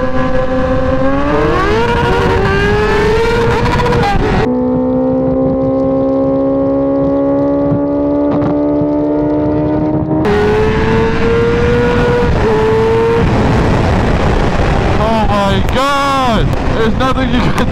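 Kawasaki ZX10R and BMW S1000RR superbikes of over 200 hp screaming at full throttle while racing, loud high-revving engine with rising pitch through gear changes and a brief dip near the end.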